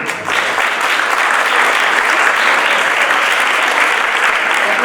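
Loud, sustained audience applause at a rural school conference, a dense, unbroken roar of many hands clapping close by from start to end.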